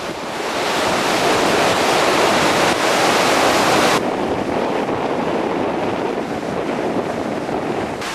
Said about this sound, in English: There was a noticeable increase in the wave action and the water level.